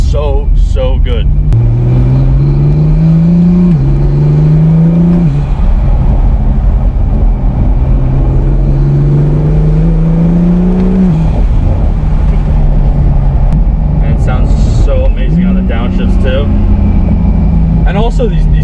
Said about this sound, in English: these turbos just sound so, so good